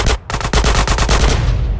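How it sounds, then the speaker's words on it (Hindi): Rapid automatic gunfire in GTA San Andreas Remastered: a loud burst of closely spaced shots fired in quick succession, close and punchy, with no talking. "गोलियां हम थोड़ी कम यूज़ करते हैं क्योंकि महंगी आती है वाली गन"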